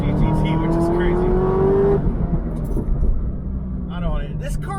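A Chevrolet Corvette ZR1 sports car powers through a corner, its engine note rising steadily then easing, heard from inside the cabin while someone talks excitedly over it.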